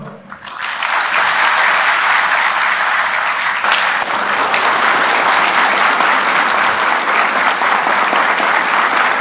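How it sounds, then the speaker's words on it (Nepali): Sustained applause from government officials at Nepal Police headquarters, steady and dense clapping filling the room for the whole stretch after a brief quieter opening. "जब वर्दीभित्रको मान्छे रोयो अनि सत्ताले ताली बजायो"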